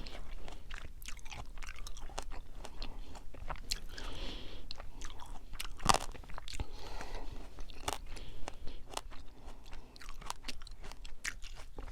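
Candied grapes coated in crisp tanghulu sugar shell being chewed, with steady close crunching and biting sounds repeating throughout, one sharper crack partway through, no talking.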